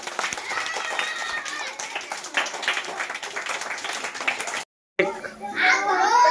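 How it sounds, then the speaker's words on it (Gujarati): Applause for the three winners of a village party game, a loose burst of clapping from a small group, with children and adults talking over it; a brief silent gap, then voices again. "ચાલો ભાઈ જોરદાર તાળીઓના ગડગડાટથી વધાવી લઈશું"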